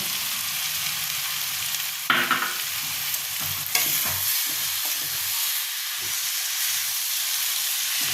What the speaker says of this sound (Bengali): এটা দিয়ে আমি একটু নাড়িয়ে নামিয়ে নেব